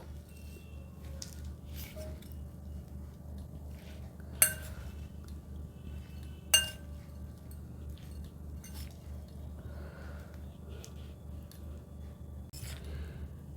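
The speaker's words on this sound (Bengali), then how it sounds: "এবার সব একসাথে মিশিয়ে নেব" Cucumber noodle salad ingredients are tossed together in a bowl, making quiet soft squishes and a few light clinks of utensil on dish, with two sharper taps standing out over a low background hum.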